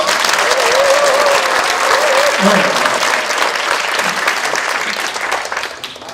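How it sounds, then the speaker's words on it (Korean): A crowd at a public lecture applauds loudly and continuously, and the clapping fades slightly toward the end. "자, 한 번 더 큰 박수 부탁드리겠습니다"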